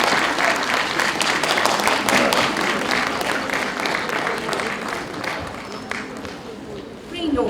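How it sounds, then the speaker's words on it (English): An audience at a competition ceremony gives sustained, dense applause that tapers off gradually, with faint voices mixed in. "A big round of applause, everyone."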